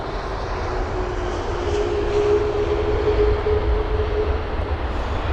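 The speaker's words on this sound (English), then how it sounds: "So the Middle Eastern Airlines A330-300, that was." Middle Eastern Airlines Airbus A330-300 passing at London Heathrow, a steady broadband jet roar with a faint whining tone, loud and continuous throughout without voices.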